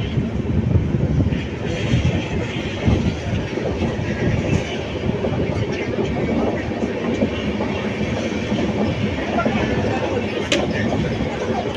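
A passenger train pulls into Dharmapuri station on the Erode to Bangalore run, its wheels clattering steadily in a dense, continuous rumble with a faint squeal. The sound is heard from on board, and a voice talks over it throughout.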